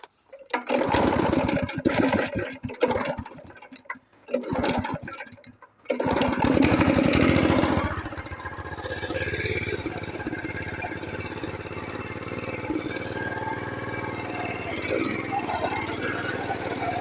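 A small petrol engine on a farm, used for peach tree care, starts with a few sputtering pulls and then settles into a loud, steady idle that runs on without a break.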